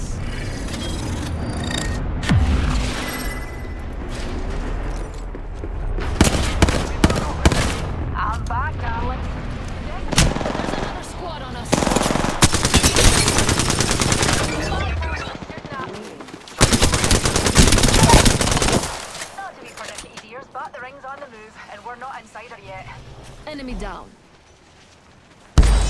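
Heavy gunfire with people shooting, loud rapid bursts and sustained volleys mixed with booms, broken by quieter stretches where a voice talks, ending in near silence then a final hit.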